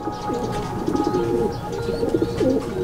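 Racing pigeons coo in repeated soft, throaty rolling calls, several overlapping phrases close by in a loft setting, with a faint steady hum underneath.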